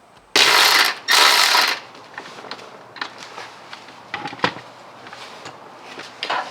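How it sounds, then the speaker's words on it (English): A ratchet undoes a 10mm bolt on a car chassis while a dash camera is being hardwired, opening with two loud bursts of rapid clicking, then quieter scattered ratchet clicks and metallic handling up close. "It's a 10mm, and then I'm just gonna undo it real quick"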